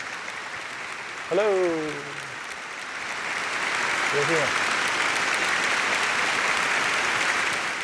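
A crowd applauds steadily through most of the stretch, a broad continuous wash that swells slightly later on, while a voice speaks briefly over it near the start and again midway.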